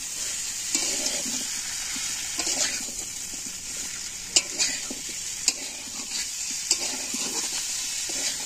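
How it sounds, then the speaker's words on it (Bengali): Fried potatoes being sautéed and stirred in a pan, with a steady sizzle under regular scraping strokes and a few sharp clicks of the spoon on metal, close and with no talking. "আলু দিয়ে ভালো করে কষায় গেছে"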